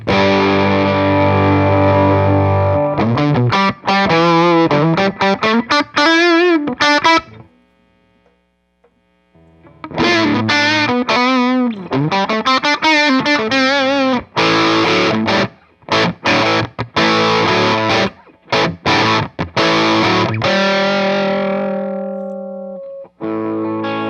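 An electric guitar with humbuckers runs through a DOD Overdrive Preamp 250 pedal into an amp's clean channel, playing loud, gritty overdriven riffs and bends. A brief pause interrupts, then more choppy chords and single notes ring out before a hum-filled tail.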